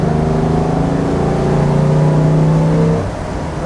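A 1955 Mercedes 300 SL Gullwing's engine pulls steadily under throttle, a loud, close droning growl that rises slightly in pitch for about three seconds before easing off, with no talk over it.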